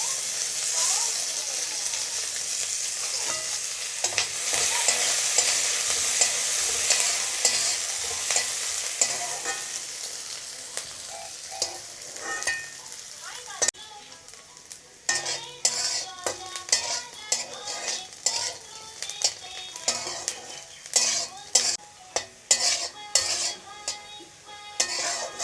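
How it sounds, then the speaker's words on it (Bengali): Ginger and garlic fry in hot oil for a taki fish bharta, a steady crackling sizzle with frequent metal spoon scrapes and clinks against the pan, the stirring growing sharper and more rhythmic toward the end. "আমি এই তেলে আদা রসুনগুলো বেশ ভেজে নেব।"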